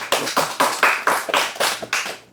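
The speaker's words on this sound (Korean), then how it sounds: "자, 그럼 박수로 시작하겠습니다." A short burst of hand clapping at a book club meeting, about eight or nine quick sharp claps in a steady rhythm, close and fairly loud, with no voices.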